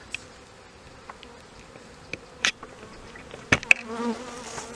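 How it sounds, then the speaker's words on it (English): Bees buzzing close around a camera in a community garden in July: a faint, steady insect drone with brief louder passes as individual bees fly near, and no talk. "I was getting dive bombed by the bees and been stung in the arm and almost got stung in the head"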